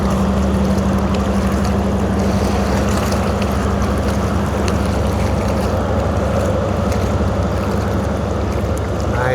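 The lake freighter Stewart J. Cort passes through the Soo locks, running after rudder shaft issues. A loud, steady low rumble of engines and propellers churns water nearby and continues throughout without a break.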